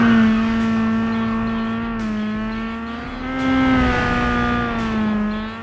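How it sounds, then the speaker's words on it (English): A 2017 Ford Fiesta WRC rally car engine and exhaust in the WRC 10 game rev and sweep through gear changes, the tone dipping and rising over several seconds at steady volume. "The engine and exhaust audio is once again below average."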